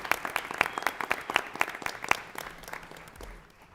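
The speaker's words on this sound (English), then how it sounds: "I'd like to give the three of them a round of applause" Applause at a school board of education meeting for three honored people, a modest round of separate claps from a small audience, fairly distant, thinning out and fading after about two seconds.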